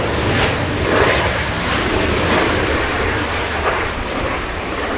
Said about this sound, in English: Runway 24 left, clear for takeoff